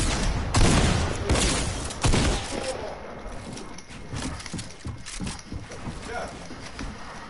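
Rapid bursts of video-game gunfire crackle loudly in the opening seconds, then thin into scattered shots and background noise while a player talks.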